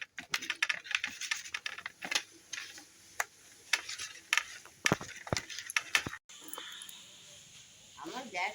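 A knife cuts potatoes on a board, giving a series of sharp, irregular taps close by, with pauses between strokes and quieter kitchen background.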